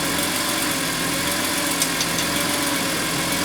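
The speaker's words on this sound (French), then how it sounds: "Comme s'il y avait une fuite d'échappement qui va avec le régime." A BMW M3 E46 CSL engine idles steadily with a possible exhaust leak, producing a constant, loud, even rumble throughout.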